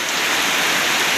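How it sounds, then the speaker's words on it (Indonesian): Heavy rain pours down on a village in Simeulue, Aceh, a dense, loud and unbroken hiss of water striking surfaces nearby. "Ini pada siang hari ini hujan deras mengguyur ya"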